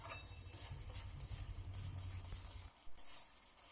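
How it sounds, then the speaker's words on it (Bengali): Cabbage frying with turmeric is stirred and tossed in a pan, producing a faint sizzle with soft scraping and patter that thins out toward the end. "সমস্ত কিছু দিয়ে ভালোভাবে নেড়েচেড়ে কষিয়ে নেব"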